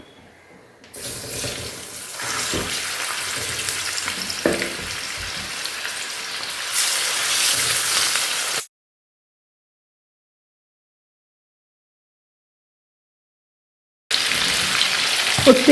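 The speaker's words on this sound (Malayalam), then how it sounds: "ചൂടായ എണ്ണയിലേക്ക് ചിക്കൻ ഇട്ട് വറുത്തെടുക്കാം" Chicken sizzles and crackles in hot oil, a steady frying hiss that stops abruptly into silence, then resumes at the end.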